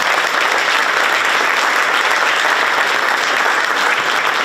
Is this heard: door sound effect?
no